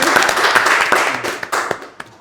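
Audience applause during an Indonesian podcast-style talk session on Central Java sports, with dense clapping from a group that holds steady through the short burst, a few sharper claps standing out and no talk over it.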